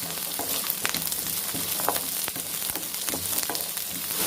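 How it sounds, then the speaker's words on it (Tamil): Garlic and onion sautéing in hot oil, crackling and spitting with scattered sharp pops and scraping stirs over a continuous close sizzle, with no talking. "பூண்டும் வெங்காயத்தோடு சேர்ந்து நல்லா வதங்கட்டும்."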